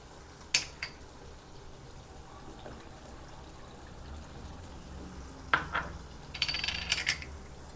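Ground masala goes into a pan for a matar paneer gravy, with a few sharp metallic clinks of a spoon against the pan over a quiet sizzle, then a brief cluster of scraping and clattering near the end.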